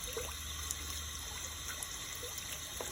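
Cucumbers being rinsed outdoors under running water, a soft continuous trickle and splash with light rubbing, faint and steady.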